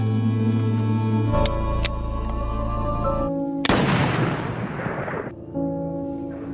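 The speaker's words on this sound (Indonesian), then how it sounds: "Dan ya, ternyata Natalie berhasil melumpuhkan rusa itu hanya dengan satu kali tembakan." A single sharp rifle gunshot aimed at a deer cracks out over a steady musical bed, followed by a noisy burst that trails off over a couple of seconds.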